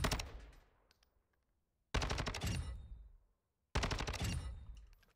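An STB rifle in Call of Duty MWII fires three loud, sustained automatic bursts, each a rapid string of shots followed by a brief silence.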